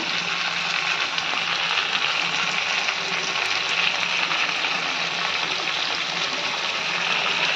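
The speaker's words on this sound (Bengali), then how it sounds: "এবার আমি মশলাগুলো দেবো কাঁচা লঙ্কা বাটা" Green chili paste goes into a pan of frying potato, pumpkin, carrot, beans and eggplant, producing a loud, steady, unbroken sizzle of hot oil close by.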